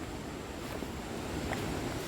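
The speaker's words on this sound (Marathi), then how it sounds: "आणि पाण्यांचा आवाज काय येता एक नंबर" A steady broadband rush of flowing water from Devkund Waterfall in Maharashtra, constant and fairly loud, with no breaks or voices.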